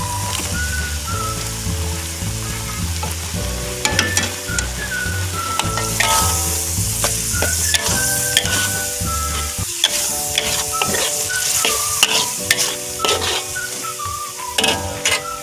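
Turmeric spice paste for tilapia frying in a pan, a loud steady sizzle with stirring scrapes and light utensil clinks, while music plays underneath throughout.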